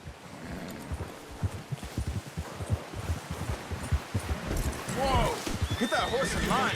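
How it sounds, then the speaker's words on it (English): Horse neighs and whinnies with clip-clopping hooves in a Western video game hunting scene, close and fairly loud, with shrill whinnies near the end mixed with in-game talking. "Get that horse in line, Arthur."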